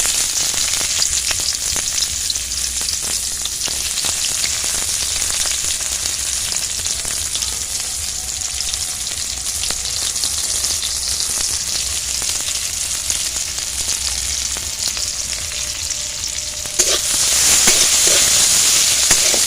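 Onions sizzle steadily in hot oil, a dense, even crackle and hiss with no talking, growing slightly louder near the end.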